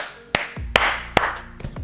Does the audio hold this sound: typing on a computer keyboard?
no